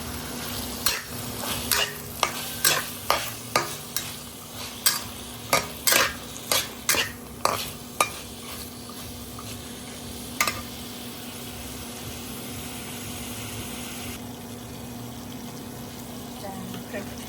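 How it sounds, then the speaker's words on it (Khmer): Squid and garlic stir-frying in a hot pan: a steady sizzle underneath a run of sharp, rhythmic utensil scrapes and clacks against the pan, which stop partway through while the frying hiss continues alone. "តោះមកដាក់គល់ខ្ទឹមចូលខ្ញុំធ្វើការដាក់មឹកចូល"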